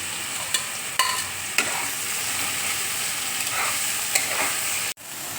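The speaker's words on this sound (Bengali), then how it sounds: "এবার দেখো ঘিয়ের মধ্যে আমি লাউটা দেখো দিয়ে দিচ্ছি।" Grated bottle gourd frying in ghee in a pan gives a steady crackling sizzle, broken by several sharp clicks and scrapes of stirring; no one speaks.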